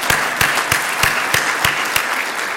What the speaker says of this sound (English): then they get a big applause in absence.